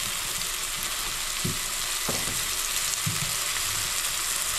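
Potatoes fry for aloo jeera as chopped green chilli is mixed in, producing a dense, steady sizzle with a few soft scraping stirs rising above it, near and fairly loud.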